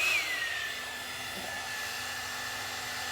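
Revlon hot-air styler brush blowing, a steady loud whooshing fan hum with a faint motor whine, running continuously while a voice briefly speaks over it.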